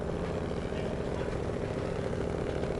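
A truck engine in the video game Snowrunner labours under load, a steady, droning low growl that holds constant and loud with no variation in pitch across a brief stretch, with no talking.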